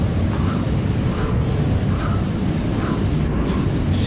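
A Graco airless sprayer hisses continuously as it sprays a dust coat of paint onto MDF furniture, a loud, steady, close rush of spray with two very brief cut-offs.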